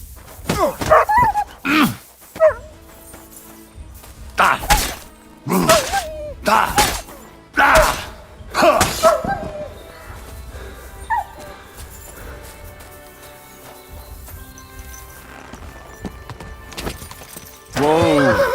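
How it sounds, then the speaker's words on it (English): A dog barks repeatedly in the medieval video game Kingdom Come Deliverance 2, a series of loud, sharp barks in close succession, mixed with shouting voices and scuffling. "Someone call off that mutt!"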